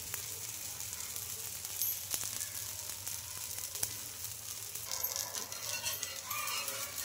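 Chickpea dosa batter sizzling in oil on a hot pan, a steady bright crackling hiss with brief sharper pops, close and continuous throughout with no talking.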